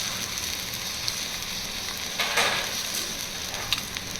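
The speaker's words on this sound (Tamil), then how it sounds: "ஒரு முட்டை கலக்கி வச்சுருக்கேன். அதை நம்ம இப்படி ஆட் பண்ணிப்போம்." Beaten egg hits a hot pan beside cooked carrot and sizzles steadily, a soft continuous frying hiss with a few brief crackles and a slight stir near the middle, no voices.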